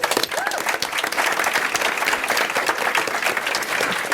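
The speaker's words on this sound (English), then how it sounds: "I think we have to give a round of applause to the corporate sponsors" Audience applause fills a room at a live Disney fan event, a steady wash of many hands clapping that holds throughout, with faint voices mixed in underneath.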